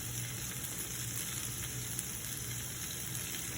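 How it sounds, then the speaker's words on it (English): Vegetables and raw garlic sauté in a pan for an omelette, giving a steady, dense sizzle that holds evenly from start to finish with no voices. "Now we've sauteed our vegetables all that for about, 5 minutes."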